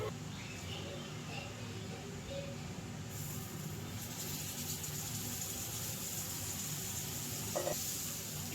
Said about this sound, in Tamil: ஸோ வந்து இப்போ நம்ம வந்து ஃப்ரை பண்ணி எடுத்துடலாம்.